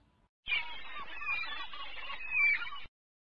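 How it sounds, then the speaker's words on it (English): Seagulls call in a continuous run of shrill, overlapping cries lasting a few seconds, fairly close and loud, with no talk. "Seagulls."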